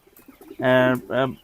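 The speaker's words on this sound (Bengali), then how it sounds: "দেশি কবুতর আছে এগুলিতে আমরা দেখতেছি" Native domestic pigeons coo close by. After a few faint soft clicks, two throaty coos follow in quick succession, the first longer than the second.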